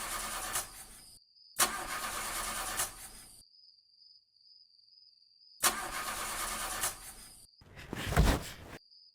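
A car engine cranks over and over without catching, in several loud bursts broken by short pauses, with a thin steady tone in between; it is a stalled car in a Hindi TV drama scene.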